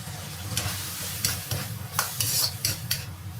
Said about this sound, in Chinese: 搅拌至汤汁粘稠就可以了